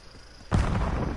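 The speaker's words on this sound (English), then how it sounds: "Enemy airstrike in the area." A sudden deep boom of an airstrike explosion in the Call of Duty Warzone video game breaks in after a quiet moment and rumbles on loudly to the end.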